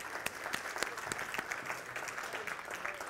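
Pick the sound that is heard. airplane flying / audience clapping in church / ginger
audience clapping in church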